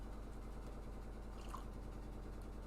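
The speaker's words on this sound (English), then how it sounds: "you can hear the washing machine in the background" A washing machine runs somewhere in the background, a low, steady mechanical hum and faint churning, quiet and continuous with no voices.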